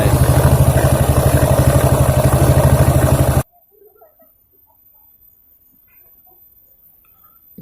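A Suzuki Shogun 125 motorcycle engine runs during a test with a fast, even idle putter, loud and close for about three seconds, then cuts off abruptly into near silence with faint background noise.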